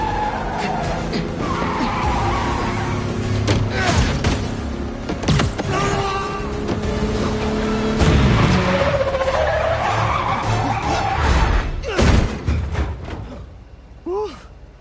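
Car skidding and braking in the Spider-Man 2 video game on PlayStation 5, a long loud tire squeal and slide with engine noise running throughout, ending in a sharp stop.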